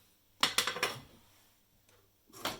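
A cooked homemade pancake is slid onto a plate with a quick series of four or five light clinks and scrapes of utensil on crockery, then a softer clatter a moment later in a quiet kitchen.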